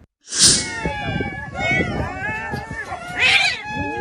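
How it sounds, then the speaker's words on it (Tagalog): Cats in a crowded cat pound in Cavite cry and meow loudly and nearly without pause, with long wailing caterwauls overlapping one another close by. "Walang tigil din sa pagyak ang iba pang kasama nilang pusa."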